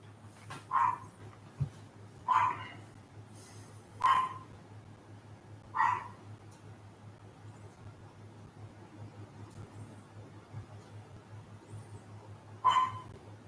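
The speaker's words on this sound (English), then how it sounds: "Sorry about the dog barking." A dog next door barks in short single woofs, five spaced barks from a moderate distance over a low steady hum in a residential unit, with no talk.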